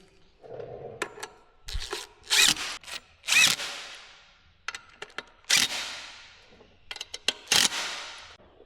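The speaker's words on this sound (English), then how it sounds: "snug them all down with my 3/8 drive impact again" A 3/8-inch drive impact wrench snugs down bolts during a Mitsubishi Lancer clutch and flywheel install, firing in several short loud bursts of hammering rattle separated by quiet gaps and small clicks.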